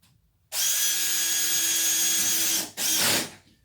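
A power drill driving screws into perspex whines loudly and steadily for about two seconds, stops briefly, then gives another short burst.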